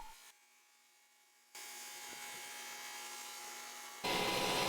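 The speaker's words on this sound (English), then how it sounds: "Over at the drum sander, I can get these side pieces taken down to their final thickness of a ½ inch." A drum sander takes wooden side pieces for a keepsake box down to half-inch thickness, a steady broadband hiss that steps up louder partway through and surges again at the end.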